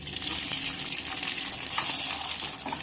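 Rice papad dropped into hot oil, a loud, steady hiss and bubbling rush of frying close by, with no talk.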